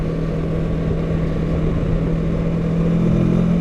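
A 2021 Kawasaki Versys 650 motorcycle rides along with a steady, loud engine drone and constant road and wind rush, rising slightly in intensity near the end, with no voices.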